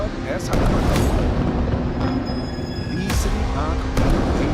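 Deep rumbling missile-strike blasts boom over a dense, noisy background, with loud bursts near the start, middle and end, and a voice speaking underneath.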